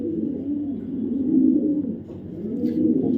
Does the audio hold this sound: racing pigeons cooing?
yes